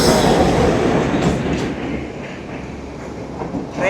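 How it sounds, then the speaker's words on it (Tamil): A train rushes past close by on a Sri Lankan rail route, a loud, steady roar of wheels and rushing wind with faint rail clatter, holding strong throughout with no talking. "ட்ரெயின் வந்து பக்கத்தால் போய் வந்து காற்று வந்து பயங்கரமாக இருக்குது."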